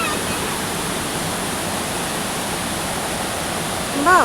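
A river rushes in a steady, dense roar of flowing water, close and loud throughout with no pauses and no talk.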